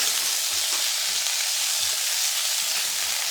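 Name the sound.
beef frying in a pan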